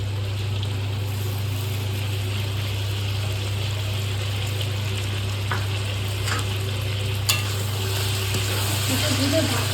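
Country chicken curry sizzling and frying steadily in a pan after cumin powder goes in, with a constant close crackle, a low hum underneath and a few sharper spatters near the end.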